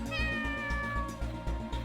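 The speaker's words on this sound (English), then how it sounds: "With one meow, it resumes yet another of its leisurely strolls." A black cat in a visual novel game lets out a single drawn-out meow, clear and close, over soft background music.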